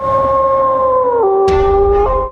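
A dog in a film scene lets out a long wolf-like howl, loud and close, holding a steady tone, then stepping down in pitch before a sharp rise near the end.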